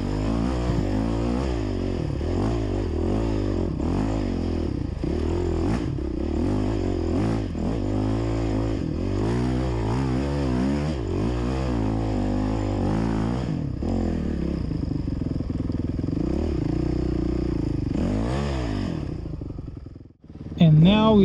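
Enduro motorcycle in second gear at full throttle through spring mud, engine roaring and revving steadily and loudly for about twenty seconds with rising and falling pitch, then cutting out briefly near the end.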